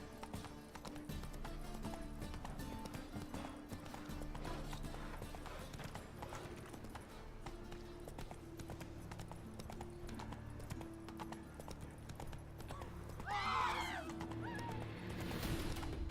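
Steady horse hoofbeats clip-clop in a continuous rhythm in The Witcher 3 video game, with a brief whinny-like cry near the end over a low background hum.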